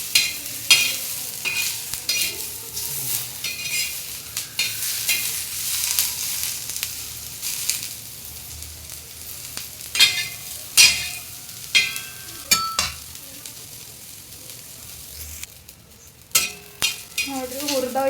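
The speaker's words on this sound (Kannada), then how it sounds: "ಉಳ್ಳಾಗಡ್ಡಿ ಮೆತ್ತಗೆ ಕೆಂಪಗೆ ಆಗ್ಬೇಕ್ರಿ" Onions sizzle steadily in a hot pan, with repeated scraping stir strokes and occasional utensil clinks throughout, close and fairly loud.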